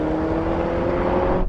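An Audi RS6, BMW M5, Mercedes-AMG E63 and Porsche Panamera accelerate in a drag race, heard as a loud, steady engine drone with a strong humming tone that holds throughout.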